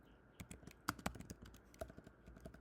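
Computer keyboard keys tapped in quick irregular bursts while writing LangChain code, close and fairly quiet, with a couple of sharper key strikes in the middle and no talking.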